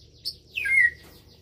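A white-rumped shama, or murai batu, gives a short chirp followed by a louder rising and falling whistled call, alone and fairly close.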